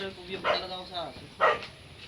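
A puppy barks twice, short sharp yips about a second apart, fairly close in a quiet room.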